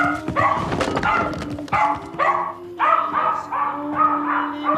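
A dog barks repeatedly in a domestic film scene, a run of sharp, mid-distance barks and yips with brief whimpers, loud and prominent over faint background sound.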